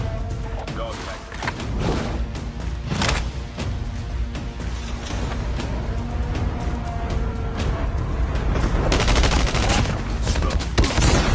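Gunfire in a shooter video game rattles almost without pause: rapid bursts and heavy shots pile on each other, loud and dense, and grow fiercer toward the end.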